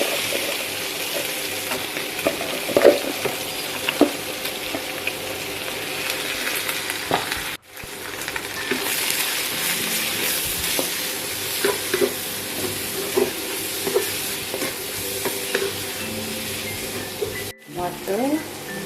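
Sawi greens are stir-fried in a pan, hissing with a steady loud sizzle while a utensil scrapes and stirs. Two short breaks interrupt the sizzling.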